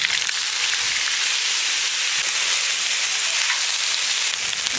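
Ginger paste frying in hot oil with bay leaves, dried red chilli and cumin seeds, a steady loud sizzle and hiss that runs unbroken throughout.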